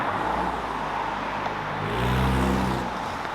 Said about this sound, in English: Car parade.